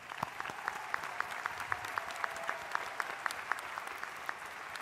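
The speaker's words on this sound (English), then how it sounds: "Let's give them a round of applause." A large indoor audience applauds doctoral graduates at a University of New Orleans commencement, with steady, fairly faint clapping running throughout and a few sharper individual claps standing out.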